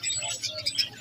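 Many small caged birds at a bird market in Ghazni, Afghanistan, giving a dense, close chatter of quick high chirps and tweets.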